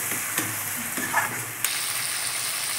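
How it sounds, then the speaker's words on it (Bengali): Prawns and taro flowers sauté in a hot pan, a steady sizzle broken by a few sharp scrapes and clinks of a spatula stirring close by. "ভালো করে একটু কষুন"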